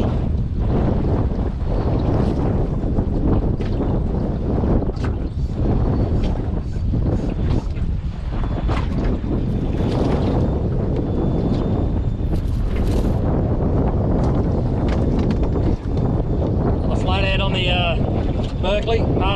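Steady wind buffeting the microphone on a boat trolling through shallow water on a running-out tide while flathead fishing, a constant loud rush with water wash throughout and a brief squeaky rattle near the end.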